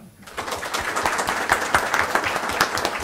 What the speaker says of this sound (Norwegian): Jeg syns vi gir han en applaus.